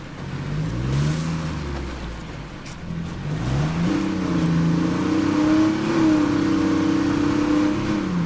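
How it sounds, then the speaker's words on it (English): Vehicle engine in State of Decay 2 revving hard with rising and falling pitch, a steady loud drone that climbs and sweeps through the whole stretch without much sense of forward motion. "hate the way these vehicles sound as though they're just revving and not doing anything."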